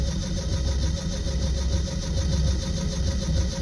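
An old engine with a choke and no accelerator pump cranks over steadily without catching, a loud close continuous churning drone running throughout with no voices.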